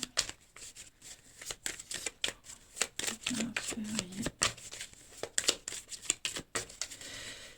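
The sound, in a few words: shuffling and drawing cards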